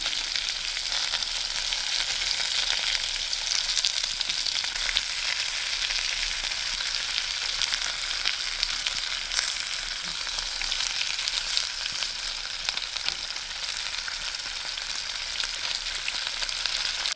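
Roasted garlic and onion frying in a camp pan at a backcountry campsite in Northern Ontario, giving a loud, steady, dense sizzle that runs on unbroken with no talk.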